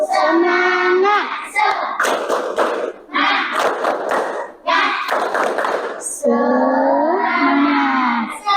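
A classroom group performs a rhythmic clapping chant, with loud voices shouting in unison between bursts of patterned clapping, bright and close throughout.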